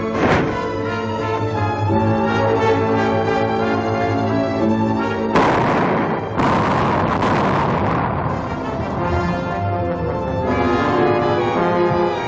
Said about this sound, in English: Nothing but a sound like a tremendous explosion.